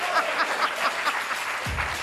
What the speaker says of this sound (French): applaudissez pour Michel!